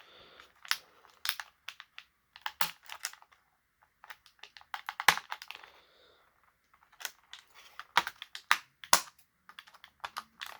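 Scissors cut twist ties and plastic bands from action figure packaging: irregular bursts of sharp snipping and crinkling plastic, scattered clicks and cuts close by with short pauses between them.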